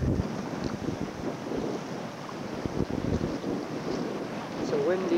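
Steady wind buffets the microphone on an open fishing boat on a lake near The Pas, Manitoba, with low rumbling gusts and a faint hum of water and motor throughout, no talk heard.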